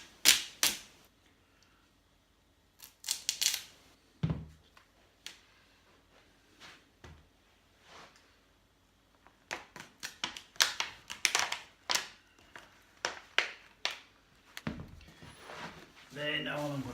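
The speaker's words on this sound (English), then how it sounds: "I'm just going to put some gaffer tape around just to stick the bottle to the leg" Gaffer tape is pulled and torn in quick sticky rips while being wound around a bottle to fix it to a leg, sharp crackling bursts in irregular clusters between pauses, close and fairly quiet, with occasional talk.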